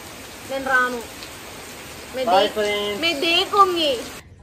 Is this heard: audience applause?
no